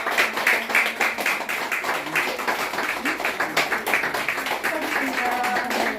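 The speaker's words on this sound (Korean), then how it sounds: "정말 뜨거운 박수 부탁드립니다" Audience at a book launch for an essay collection gives sustained applause, dense steady clapping throughout while a host keeps talking over it.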